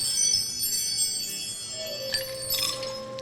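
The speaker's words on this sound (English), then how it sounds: "This is called a wind chime" A slightly broken wind chime rings with bright, overlapping metallic tones, starting with sustained shimmering notes and then struck again near the end for a fresh cluster of clear, close ringing.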